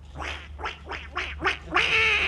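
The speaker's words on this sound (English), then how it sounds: "I was just winding up one of the ducks" Five quick, evenly spaced duck-like quacks from a wind-up toy duck, ending in a longer, brighter squawk, close and clear with no talking.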